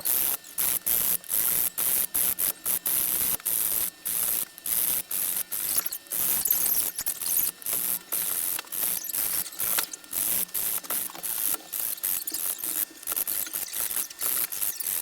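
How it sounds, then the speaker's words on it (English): Lime rind scraped over a fine grater on a home kitchen counter, a steady run of rapid, raspy strokes with short pauses, fairly close and continuous for the whole stretch with no talking. "So first we are going to zest our lime."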